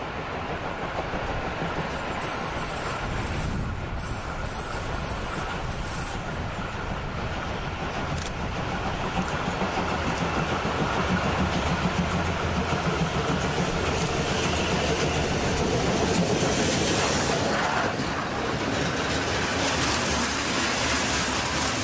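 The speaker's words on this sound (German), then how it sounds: "Die Leipziger 52, 81, 54 muss den langen und schweren Zug schleppen." Steam locomotive 52 8154 hauls a heavy coal train of about 2000 tonnes through the town of Zeitz, a continuous loud, close rumble and rolling clatter with a brief high tone near the start.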